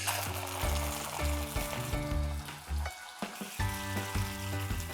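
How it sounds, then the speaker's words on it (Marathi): Two tablespoons of tomato puree frying in the same oil that just cooked paneer for palak paneer, a close, bubbling sizzle with some spatter and spoon-scraping pulses over a low hum. "आता याच तेलात आपण घालणार आहोत 2 टेबलस्पून टोमॅटो प्युरे"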